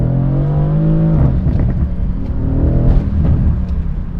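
Twin-turbo AMG engine of over 500 hp pulling hard through first gear, a loud, continuous rising drone with the revs climbing steadily, heard close from inside the car.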